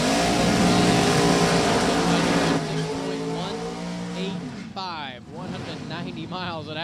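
NHRA drag racing cars launching at Virginia Motorsports Park, a thunderous engine roar that fades as the cars tear away down the strip, with an announcer talking over it.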